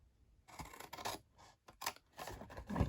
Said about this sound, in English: So along the bottom I'm just going to cut up the score lines to the first horizontal score line,